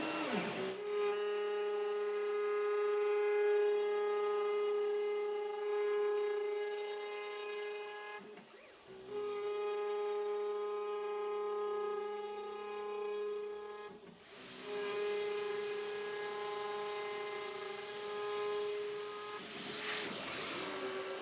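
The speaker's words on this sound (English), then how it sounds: "the great thing about using a 90-degree V-bit, however wide I want the chamfer, that's exactly how deep I go." A router fitted with a 90-degree V-bit chamfers the edge of a wooden rack part, a loud steady whine with strong harmonics, broken by two short dips where the cutter lifts and restarts.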